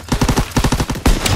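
Rapid automatic gunfire in the shooter game Call of Duty: World War II, a loud close burst of evenly spaced shots, a brief gap, then a heavier blast and further firing.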